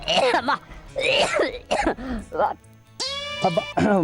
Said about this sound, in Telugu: దగ్గుతున్నారు ఎందుకు?